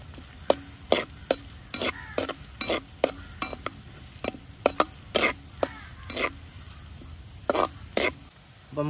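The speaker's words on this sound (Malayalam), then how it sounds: "നമുക്ക് എണ്ണ ചൂടായിട്ടുണ്ട്, ചെറിയ ഉള്ളി ഇടാം" Small shallots fry in hot coconut oil in a pan for a Kerala-style beef fry, with a low steady sizzle under repeated sharp scraping strokes of a spatula stirring at an uneven rhythm.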